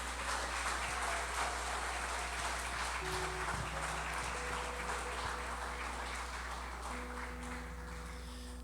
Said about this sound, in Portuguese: Quem crê nisso, aplauda o nome do Senhor